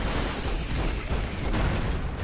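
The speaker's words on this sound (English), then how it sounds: "So much explosions." Explosions from the video game Broforce make a dense, continuous roar of overlapping booms and blasts, loud and steady across the whole stretch with no pauses.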